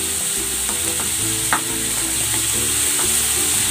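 Tomato and fresh shrimp paste (alamang) sautéing in a pan, with a steady sizzle and a few clinks of stirring, plus a sharp scrape partway through, alongside a faint steady hum.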